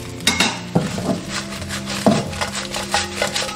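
A metal spatula scrapes and clanks against a wok while pumpkin is tossed with bubbling salted egg yolk, heat off, in several uneven strokes with sharp taps, close and fairly loud.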